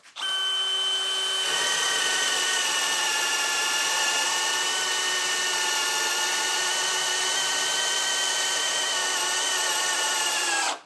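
A cordless drill, Dewalt or Hilti, set to drill mode at speed 1, bores into wood with a loud, steady whine that holds constant for about ten seconds after a brief start.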